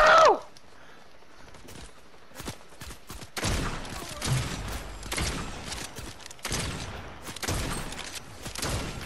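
Scattered gunshots and short automatic bursts in a Fortnite trios match, loud and close in clusters after a quiet opening, with a brief high tone at the very start.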